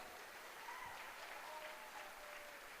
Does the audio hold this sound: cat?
no